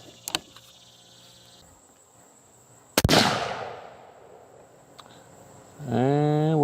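A single sharp rifle shot from a Weatherby Model 307 chambered in .257 Weatherby Magnum cracks loudly at a shooting range and rings off in a fading tail, with smaller clicks before it and a brief voice at the end.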